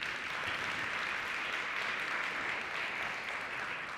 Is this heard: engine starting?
no